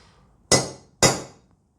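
Two sharp metallic hammer strikes on a punch against a Tesla Model 3 drive unit case, about half a second apart, close and loud, each ringing briefly before fading, with quiet in between.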